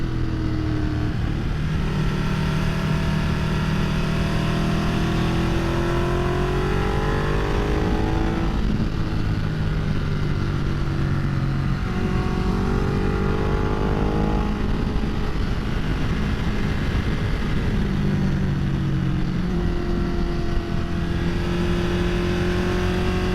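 A 2010 Ducati Multistrada 1200S engine hums steadily while riding in third gear, its pitch rising and falling as the bike pulls out of corners under constant wind noise.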